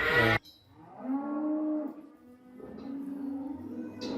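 Cattle mooing inside a barn on a farm in Goheung: a sharp knock opens, followed by a long, low, drawn-out moo and a second lowing call, nearby and fairly loud, with no voices.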